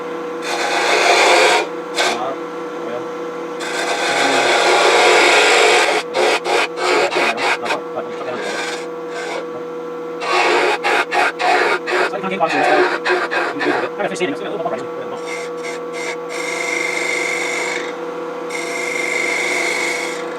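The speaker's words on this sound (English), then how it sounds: "And now start wasting away this excess wood." Harsh, continuous scraping of a detail gouge against wood spinning on a lathe, loud and close, with a steady motor hum and rapid rough chatter as the cut bites.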